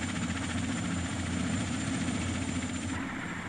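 A helicopter used to carry captured orphan baby elephants, its rotor and engine making a loud, steady throb close by with no pauses.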